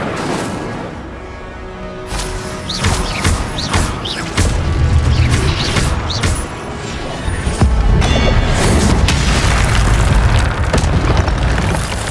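Incendio fire spell cast repeatedly in Hogwarts Legacy, loud booming bursts of fire and crashing impacts over dense, continuous game ambience, growing heavier toward the end.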